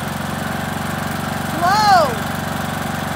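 Riding lawnmower engine running close by with a steady, buzzing drone and pulsing idle rhythm, briefly swelling louder near the middle as a whistling, squealing tone sweeps up and down over it.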